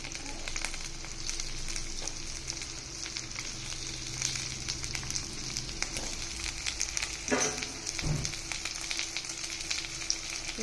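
Gunda relish (sambharo) sizzling as it fries in hot oil in a home kitchen: a faint, steady crackle with occasional louder spits and stirring noises.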